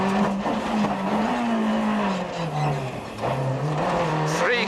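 Onboard a Nissan Sunny Group A rally car with an electrical fault, its engine droning loud and steady at close range, pitch sagging and rising through gear changes, with a brief tire squeal near the end.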